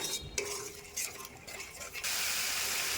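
A spoon scrapes and stirs spices with poppy seed, tomato and yogurt in a pan, with soft sizzling and short clinks of metal, then a steadier hissing fry near the end.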